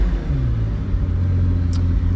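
A Pagani Huayra Roadster BC supercar engine rumbles loudly up close, a deep idle swelling into a short rising rev before settling, with a brief click partway through.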